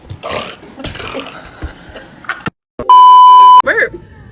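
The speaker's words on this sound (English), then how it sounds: "Burp." A loud, close burp after drinking Sprite, followed by a long electronic beep and a second shorter belch-like groan, with brief vocal sounds earlier.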